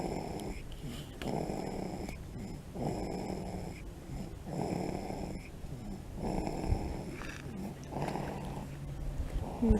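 A six-week-old puppy snoring and grunting while carried on a hike, with regular, close, throaty snores repeating in a steady breathing rhythm.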